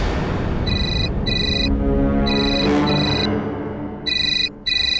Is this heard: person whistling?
no